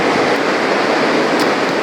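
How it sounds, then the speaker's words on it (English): Small waves breaking on a shore give a steady, loud wash of surf noise throughout, with no voices. "The waves are really very small, but they are making a lot of noise."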